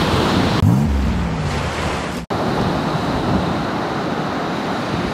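Ocean surf breaking on a beach at evening, a steady loud wash of waves with wind buffeting the microphone, one sharp dropout partway through and no talking.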